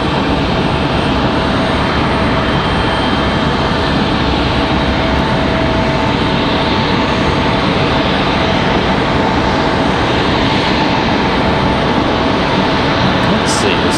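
A Frontier Airlines airplane departs Raleigh-Durham airport, its loud, steady engine roar filling the clip without a break and drowning out nearly everything else.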